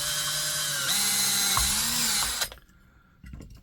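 A handheld power drill whines steadily at close range while boring a hole during a loop-on-ground receive antenna build, its pitch shifting under load before it cuts off abruptly, leaving faint handling noise.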